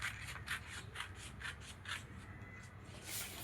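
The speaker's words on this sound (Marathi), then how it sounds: "आता आपल्याला हा कटोरीचा भाग कापून घ्यायचा आहे." Scissors cut through a paper pattern for a size 38 katori blouse, each snip a soft close rasp repeating at a steady rhythm of about two per second, with low room hum underneath.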